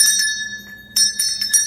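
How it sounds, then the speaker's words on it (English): A bell rung during a livestream sounds clear and loud, with bright sustained ringing tones struck several times: once at the start, then a quick run of three strikes that overlap and linger. "That bell was for Australia."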